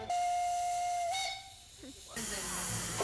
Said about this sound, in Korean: 귀여운 경적 소리와 함께 기차는 출발한다.